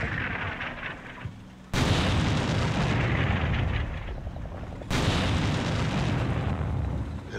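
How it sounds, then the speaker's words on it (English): Artillery shells burst in a Cold War video game: heavy, loud booming explosions, one continuing rumble followed by two sharp, powerful blasts that roll on without pause. "if you wait too long in one place, American artillery starts to zero in"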